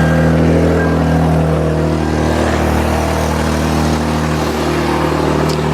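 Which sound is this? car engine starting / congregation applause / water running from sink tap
car engine starting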